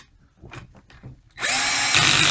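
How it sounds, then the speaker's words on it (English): A power socket driver runs a bolt tight on a top seal assembly, starting with a few faint clicks and then a sudden loud, steady whirring buzz for about a second, close up with no voices. "So I'm just going to go ahead and put that on top of the bolt, and when you hear that, it should be tight"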